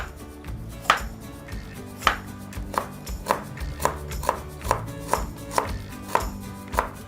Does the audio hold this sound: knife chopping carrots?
yes